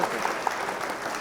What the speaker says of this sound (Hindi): थोड़े लोग ताली बजा देंगे